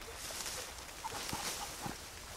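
A Leghorn chicken in Red Dead Redemption 2 gives a few soft, short clucks over a steady outdoor background hiss, fairly faint and close.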